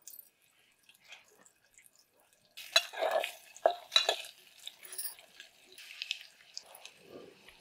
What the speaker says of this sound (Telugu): ఉండకట్టకుండా కలపాలి కదా